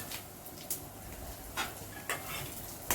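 Roasted peanuts and cumin fry in hot oil for a Maharashtrian okra thecha: a quiet, steady sizzle with a few sharp scrapes and clinks of a spoon stirring in the pan, close and without voices.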